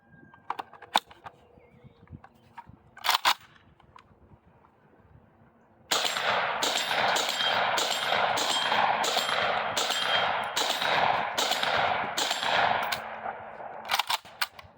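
A JTS M12AK shotgun fires double-aught buckshot from a ten-round magazine: a few loud shots ring out early, then a rapid, evenly spaced string of booming blasts follows, close by and outdoors.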